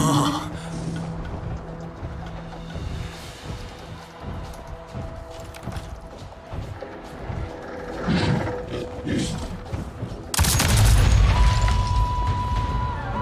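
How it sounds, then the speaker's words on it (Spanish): Explosion in the game Avatar: Frontiers of Pandora, a sudden loud broadband boom near the end that stays as a rumbling roar over a busy background of game sounds. "la explosión no es tan grande como para alejarse"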